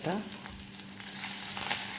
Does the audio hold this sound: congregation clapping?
no